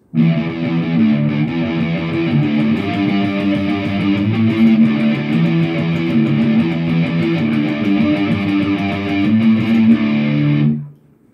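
Distorted electric guitar strums the intro chord progression of P.O.D.'s "Boom", ending on an open D, loud and sustained, ringing out steadily for about ten seconds before stopping abruptly.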